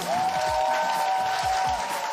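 Brief audience applause at a slam poetry event, steady clapping with a sustained tonal note ringing over it.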